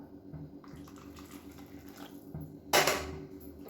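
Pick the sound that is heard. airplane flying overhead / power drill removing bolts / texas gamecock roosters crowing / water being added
water being added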